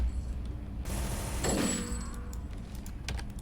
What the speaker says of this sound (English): That was a very satisfying grenade.